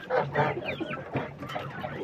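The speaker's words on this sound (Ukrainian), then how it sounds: "Оце кігутики, курка." Several chickens clucking close by, short busy bursts of fowl chatter with overlapping calls.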